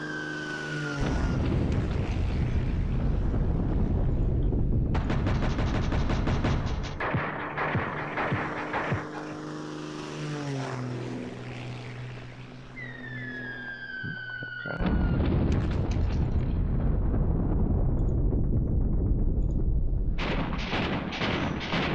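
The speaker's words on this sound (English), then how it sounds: "Let's go ahead and drop some airstrikes." Airstrike explosions in the John Tiller wargame Sealion '40: loud bursts of booming blasts and crackling impacts, with a quieter lull and descending whistling tones in the middle before heavy detonations resume near the end.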